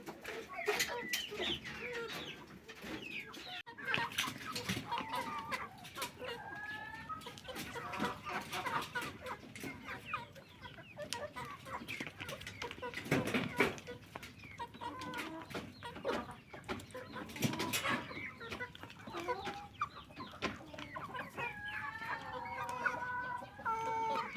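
Hens and chicks cluck and cheep continuously, with soft peeping and clucking calls scattered close by across the whole stretch.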